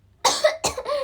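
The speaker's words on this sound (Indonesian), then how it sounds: "batuk." A young woman gives two quick, close coughs during a live stream, the second followed by a short throat-clearing rasp.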